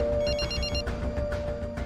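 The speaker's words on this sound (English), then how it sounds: "She rings me on my work mobile phone" A work mobile phone rings with a repeating electronic ringtone pattern, bursts recurring steadily over a low background hum, fairly close and clear, with no talk.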